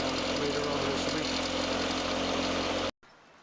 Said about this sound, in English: The tractor has a car engine in it